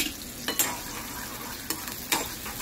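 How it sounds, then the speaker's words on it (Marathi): Onion sautés in hot oil for a spring onion jawla dish, with a quiet steady sizzle and a few brief stirring scrapes and clatters, no voices. "त्याच्यासाठी मी इकडे तेल तापत ठेवलंय। तेलात टाकलाय कांदा।"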